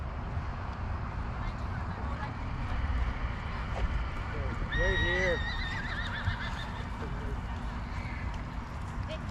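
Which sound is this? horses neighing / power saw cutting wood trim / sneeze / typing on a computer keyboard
horses neighing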